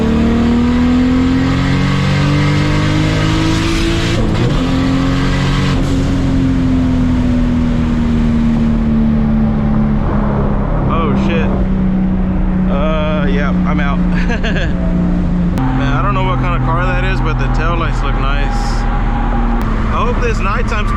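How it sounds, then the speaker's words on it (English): A straight-piped Toyota Supra accelerates hard in third gear at night, its loud raw exhaust note climbing steadily then dropping on a shift and rising again, close to the microphone with some speech over it. "All right, let's try this on third gear."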